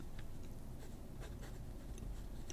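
A SCRIBO fountain pen with an italic stub nib scratches across paper in short, quiet, close strokes with brief gaps between them.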